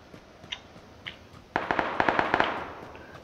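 Gunfire in the battle-royale game PUBG: a few faint isolated pops, then a rapid burst of sharp cracking shots at moderate distance, with no talking.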